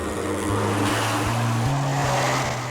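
An aircraft propeller engine runs steadily, giving a loud droning buzz whose pitch steps up a few times as it revs, with wind noise blowing underneath.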